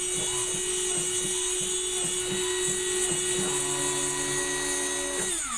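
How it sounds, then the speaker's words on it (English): A homemade CNC router's spindle whines at a steady high pitch while a drill bit chatters in short regular bursts, then the motor tone shifts near the end. "Now it will drill."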